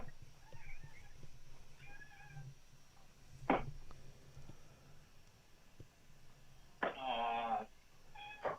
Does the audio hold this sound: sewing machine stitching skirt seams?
no